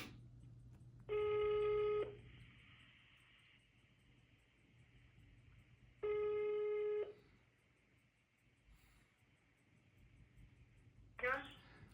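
A telephone rings out on a call, giving two long buzzing rings about five seconds apart over a low steady hum, with quiet background in between.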